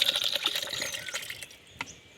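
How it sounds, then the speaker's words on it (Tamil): Rice-strained water pours from a vessel onto groundnut seeds, a close, steady splashing trickle that thins out and stops partway through, followed by a faint knock. "அது முழுகிற அளவுக்கு வடித்த தண்ணி வந்து இதில் ஊற்றிட்டு"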